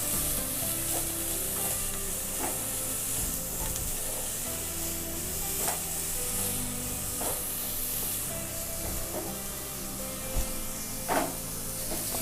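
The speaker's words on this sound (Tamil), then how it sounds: "ஒரு கேரட் சீவி வச்சுருக்கேன், அதையும் அதில் போட்டு எண்ணெயில் போட்டு" Grated carrot sautéing in hot oil, a continuous close sizzle with scattered sharp clicks from stirring throughout.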